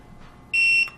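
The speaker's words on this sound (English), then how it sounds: "if you just hold down that set button," A TST tire pressure monitor for RVs gives a single sharp electronic beep, a loud high tone lasting about a third of a second after a quiet lead-in.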